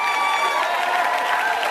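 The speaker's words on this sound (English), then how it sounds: "Keep your hands clapping, family." An audience claps steadily with a few scattered cheers, a dense, continuous patter of hands filling the room at moderate loudness.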